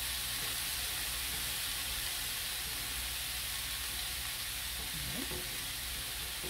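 Pork skewers sizzle and fry steadily in a hot pan, a continuous close hiss with faint stirring, no talking.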